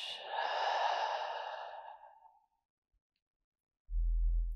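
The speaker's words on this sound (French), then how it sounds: "Inspire par le nez. Expire par la bouche." A single slow breath during a morning yoga session, drawn in through the nose and released through the mouth as a long airy exhale that fades out, then a low thud near the end.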